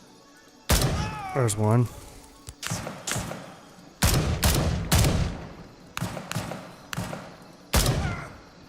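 Gunfire in the military shooter video game Gray Zone Warfare, a string of sharp shots spaced unevenly across the clip, with someone speaking briefly between them.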